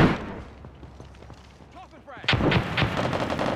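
A grenade goes off in the America's Army video game as a sudden loud blast partway through, followed by booming reverberant gunfire and rumble, with players talking faintly before it.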